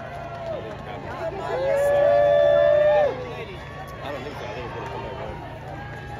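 A large, engaged crowd in the stands at a Renaissance Faire queen's joust, a dense babble of many voices swelling into a loud cheer and then settling back, with a voice speaking nearby over the murmur.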